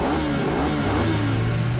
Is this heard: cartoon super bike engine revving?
yes